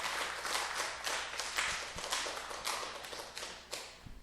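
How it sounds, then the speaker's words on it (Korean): A church congregation at a Friday evening service gives a dense, sustained round of applause to welcome a visiting pastor, with hand claps blending into a continuous wash that slowly fades. "우리 멀리서 하나님 보내주셨는데 박수로 한번 환영합시다."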